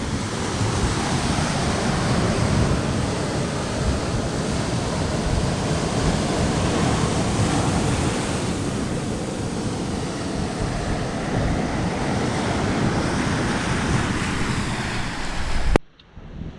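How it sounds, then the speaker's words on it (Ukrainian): Heavy stormy sea surf at Cales de Mallorca roars continuously, big waves crashing and washing in a dense, loud rush mixed with wind, cutting off abruptly at the end. "Кожного дня ось такі великі хвилі."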